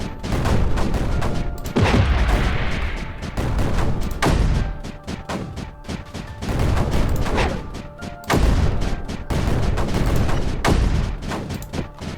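Repeated mortar fire from the video game Creeper World 4 booms in loud, dense volleys, surging and fading in waves across the whole stretch with no talk over it.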